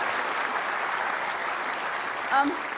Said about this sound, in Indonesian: Bisa kita kasih tepuk tangan juga untuk Mas Anies Baswedan untuk pembukanya.